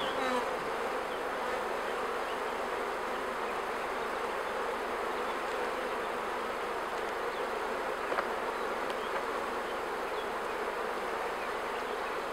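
A honeybee colony in an open hive buzzes with a dense, steady drone, close and constant throughout with no pauses, and no voices over it.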